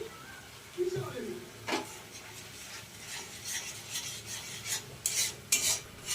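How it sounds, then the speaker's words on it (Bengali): Okra jhal being stirred in a pan, faint scraping and rubbing strokes that grow sharper and more frequent, with soft background noise and a few low murmurs. "1 মিনিটের মতন এটা একটু নাড়বো।"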